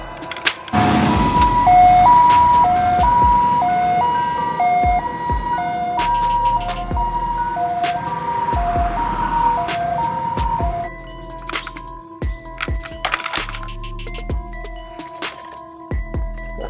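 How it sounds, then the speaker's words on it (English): An ambulance siren sounds as a loud, steady two-tone wail alternating in pitch, layered with other vehicle and toy-like sounds, then continuing more faintly toward the end. "Ambulance."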